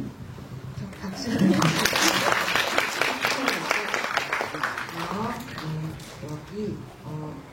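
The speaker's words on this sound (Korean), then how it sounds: "박수." Audience applause after a screening talk swells up amid voices, moderate and crowd-like, with speech continuing over and after it.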